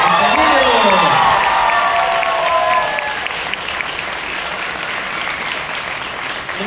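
Loud applause and cheering from a large studio crowd greeting actors Daniela Luján and Martín Rica, a dense steady wash of clapping with a voice calling out over it at the start before the ovation settles.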